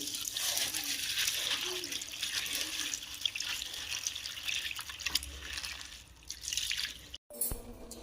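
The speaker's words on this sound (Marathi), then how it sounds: "आपण आता हे पोहे धुवून घेणार आहोत" Flattened rice (poha) is rinsed under running water in a sieve for Mumbai-style batata poha, a continuous splashing trickle with drips, fairly close, with a brief pause near the end.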